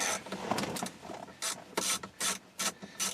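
Small screws being removed from a Ford Edge climate control module with a ratcheting driver, a series of short clicking ratchet bursts in an uneven rhythm, close and fairly quiet with no talking.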